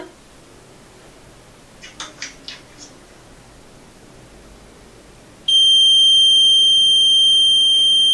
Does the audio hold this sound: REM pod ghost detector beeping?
yes